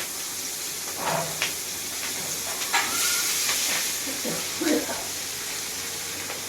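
Chopped onion hisses and sizzles in hot oil with whole garam masala spices, a steady bright frying noise that swells briefly in places, with some soft talking and light kitchen knocks underneath.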